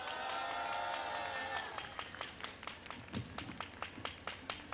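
An outdoor peace rally crowd claps to welcome three young participants onto the stage; music fades out and scattered, lively hand claps take over, building into rapid overlapping applause.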